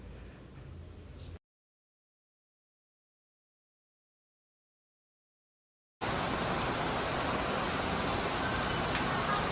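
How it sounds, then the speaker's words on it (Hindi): Heavy rain pours outside as a dense, even wash of noise. It runs for a moment, drops to total silence for several seconds, then returns louder and steady to the end. "बाहर इतनी तेज़ बारिश आ रही थी, इतनी तेज़ कि मैं आपको क्या ही बताऊं"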